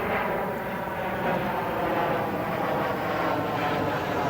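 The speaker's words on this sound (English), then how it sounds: "I don't know if you can hear the plane, but we have got a lot of planes going over us up there." Airplane passing overhead near an airport by a zoo's capybara exhibit: a loud, steady, broad engine roar that fills the whole clip, with no talk.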